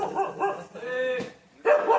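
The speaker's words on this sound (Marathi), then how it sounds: "तर ते कुत्रा बघा ना कसं भुकायला लागला माझ्यावर" A dog barks near the speaker, a few loud sharp barks close by with a drawn-out whining yelp in the middle, and no voices over it.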